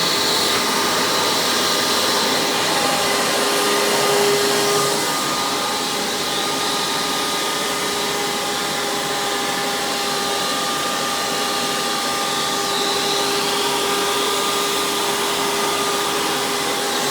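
A Hoover Breathe Easy Caddy Vac U5104-900 upright vacuum cleaner runs continuously, giving a steady, loud, airy motor whine with a constant hum throughout, heard close and alone.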